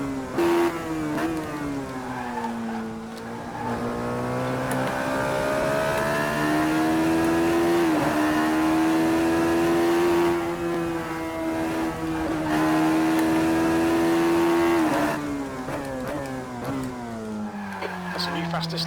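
Radical SR3 race car on a hot lap around a circuit, its engine revving loud and continuous through rising and falling gear changes, with brief lifts between shifts.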